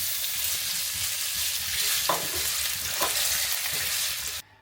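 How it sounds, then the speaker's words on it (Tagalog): Potatoes and carrots frying in cooking oil, a loud, dense sizzle that runs steadily with a couple of brief stirring knocks before it cuts off at the end. "So ito patatas at saka karos ipiprito lang natin sa mantika."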